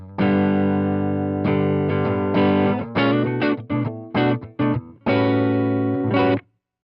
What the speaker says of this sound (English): switch to our high gain range, which will tighten things up and kind of brings it into a little bit of a heavier and more perhaps modern style of distortion